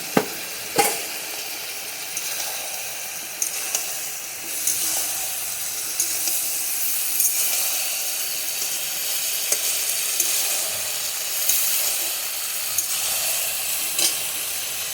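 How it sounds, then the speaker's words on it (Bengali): Chopped garlic and slit green chillies fry in a pan for a dried-fish shutki ghonto dish, giving a continuous close sizzle broken by occasional stirring taps and clatters. "এখানে রসুন কুচি আর লঙ্কা চিড়ে রাখা আছে, সেটা দিয়ে দিলাম।"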